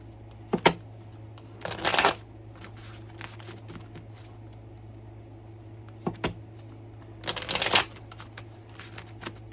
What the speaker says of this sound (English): Let me shuffle for a second.